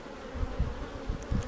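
Honey bees buzz steadily and close by while a hive is opened for inspection by a Florida beekeeper who raises queens. A dense, even hum swells slightly in a few low pulses.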